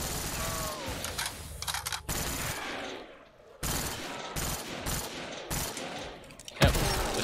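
Rapid gunfire bursts in Black Ops 3 custom zombies, loud rattling volleys broken by brief pauses, with one short quieter gap before shooting resumes.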